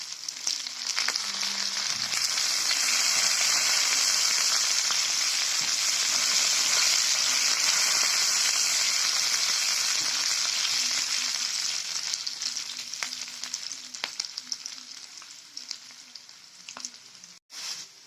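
Onions and curry leaves fry in a pan, a loud, steady close-up sizzle with occasional stirring scrapes that gradually settles and quiets toward the end.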